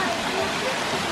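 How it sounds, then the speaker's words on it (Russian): A small waterfall rushes in a steady, close broadband roar, with a voice briefly audible over the splashing water. "красивенький водопадик"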